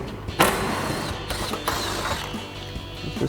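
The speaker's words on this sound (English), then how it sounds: "now we also need to remove the nut on this 10mm stud" A 10mm socket on a ratchet spins a nut off a fender stud on a 2005-2013 Corvette, a steady rapid clicking of the pawl close up, with a brief clunk near the start.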